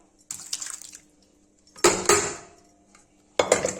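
Tomato and potato curry being tipped out of a pan into a dish, with a few clattering metal scrapes and knocks of pan and spoon in separate bursts, close and without talk.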